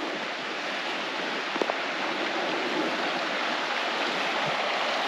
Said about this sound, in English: a bit of a running creek system through here on this side